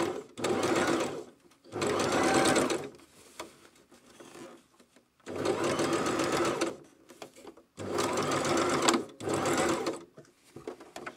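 A sewing machine stitching trousers runs in several loud bursts of rapid mechanical whirring, separated by short quiet pauses.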